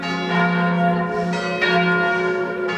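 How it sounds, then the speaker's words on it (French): A church bell in central Paris tolls a slow funeral knell with a long ringing hum, its strikes spaced out and mournful, fairly close and steady with no talk. "En fait, c'est le glas, ça. Il y a un enterrement."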